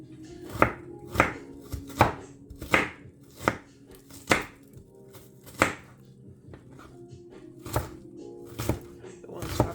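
An onion is chopped on a cutting board for a soup, about a dozen sharp knife thunks in an uneven rhythm, loud and close, with a quiet room hum between strokes.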